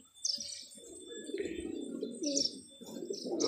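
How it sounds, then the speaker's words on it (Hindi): Pigeons coo in low, soft murmurs close by on a rooftop, mixed with higher chirps from other birds and a few brief flutters. "ये सारे के सारे कबूतर हैं"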